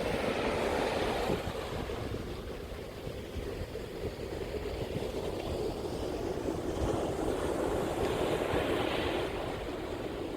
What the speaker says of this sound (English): It was a little windy, so you see how the waves are.